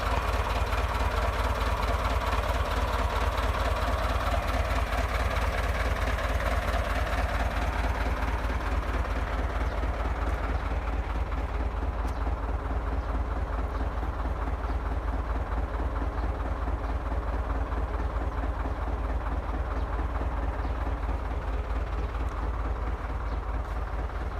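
A Ford tractor engine drones continuously at close range while plowing without a harrow, a deep rumbling chug that stays loud and steady throughout with slight shifts in tone.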